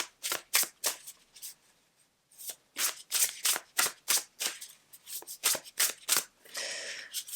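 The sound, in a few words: shuffling and drawing Divine Abundance Oracle cards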